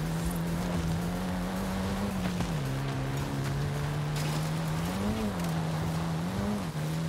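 A car engine drones steadily while driving in Forza Horizon 5, holding a constant pitch that dips once and rises twice in brief revs, with wind and road noise beneath it.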